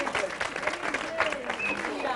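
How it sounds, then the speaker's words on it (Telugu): Scattered audience clapping on a Telugu television show set, moderately faint and mixed with voices and music-like tones, uneven bursts rather than a solid roar. "అందరు చప్పట్లు"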